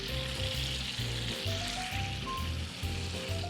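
Onions and jalapeños sizzle steadily in a pan for venison sliders, a dense, continuous frying hiss close by with no talking.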